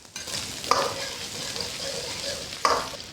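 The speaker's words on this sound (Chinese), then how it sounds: "锅留底油，下入干海椒和干花椒，炝香后下姜、葱、蒜" Dried chilies, Sichuan peppercorns, ginger, scallion and garlic sizzling in hot oil in a wok, with a steady close hiss and two sharp scrapes of a spatula stirring them.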